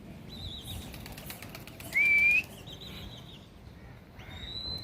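Pigeons' wings flutter and flap repeatedly at moderate distance during flight training, accompanied by a few high whistling tones, with no talking.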